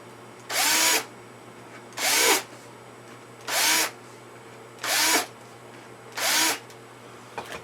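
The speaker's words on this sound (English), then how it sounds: "Still need to put a little more countersink in these." A power drill cuts countersinks for rivets in the wing spar of a Piper Super Cub, running in five short, even bursts spaced about a second apart against a quiet steady background hum.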